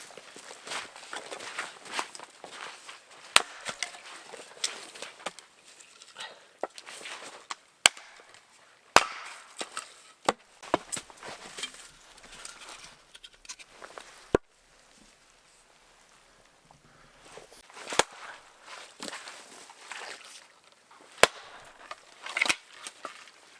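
Cedar wood is split outdoors at a creekside camp with sharp, scattered chopping knocks and cracks, some loud and some faint, separated by quiet gaps and light rustling.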